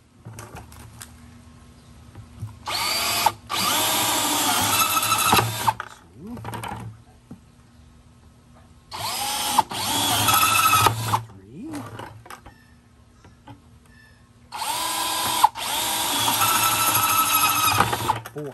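A power drill whirs in three long bursts of several seconds each, drilling aeration holes in the top of a vermicomposting bin, separated by short pauses with faint handling noises.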